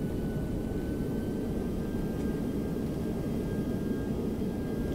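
A319 airliner in X-Plane 11 with thrust reversers open on landing, producing a continuous low, dense engine roar at steady loudness with no breaks.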